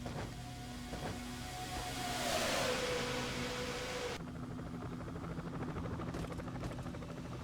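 Race cars in a NASCAR video game at Daytona in a Pepsi 400 race, heard as a steady engine drone with a rising whine that cuts off abruptly partway through and leaves a flatter hum.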